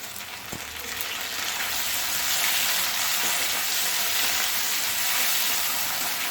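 Fried potatoes sizzling in a pan as tomatoes are added, a steady hissing fry that swells louder after a brief thud near the start.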